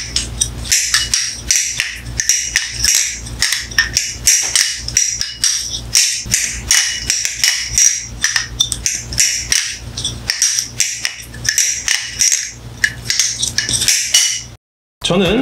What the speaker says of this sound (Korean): 오르카 발리송을 돌렸을 때 중간중간에 블레이드가 울리는 소리가 나는데